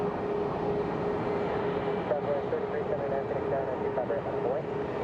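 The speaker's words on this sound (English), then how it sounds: "let's get some landing with the Southwest coming in" Southwest airliner landing at Phoenix Sky Harbor Airport, a steady distant jet engine drone with a faint rising whine, heard under a person talking.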